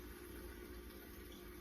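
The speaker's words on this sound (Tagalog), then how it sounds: "Ngayon, tutubigan natin siya." Water pours steadily into a pot of pinakbet, a Filipino vegetable stew already cooking with fish sauce and sautéed shrimp paste, making a continuous soft, close gush with no voices.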